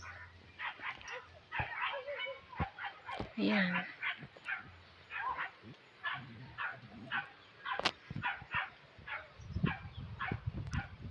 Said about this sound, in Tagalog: May aso pala doon